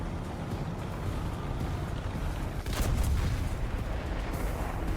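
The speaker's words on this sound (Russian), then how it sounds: "Слышу звук, едет танк." Tank engine rumble from the War Thunder video game, with a Challenger Mk 2 in play, a steady low drone that swells slightly midway with a brief crackling burst.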